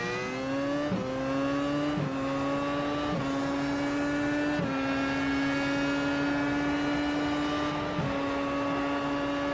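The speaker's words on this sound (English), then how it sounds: "The downshift there." A Williams FW31 Formula 1 car in the iRacing sim at Circuit of the Americas holds a steady, loud, high engine whine broken by several sharp drops in pitch as it downshifts, with no voices.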